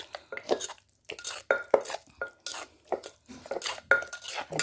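Tomatoes, shallots, garlic and chili stirred in a pan for a Cambodian tomato condiment, heard as repeated close scraping and clinking strokes of a utensil against the pan in an irregular rhythm, with no talking.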